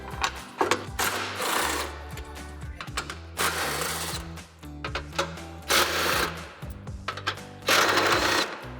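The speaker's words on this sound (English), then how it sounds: "we're gonna grab our 13mm socket and remove all of those" A 13mm socket driver runs in repeated loud whirring bursts while removing the nuts from an inner support bracket on a Jeep Wrangler JL front bumper. Short pauses separate the bursts.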